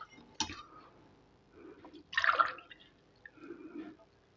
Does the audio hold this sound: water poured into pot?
yes